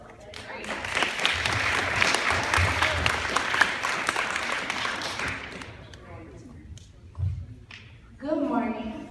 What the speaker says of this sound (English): So if you guys can give them a round of applause, that'd be great.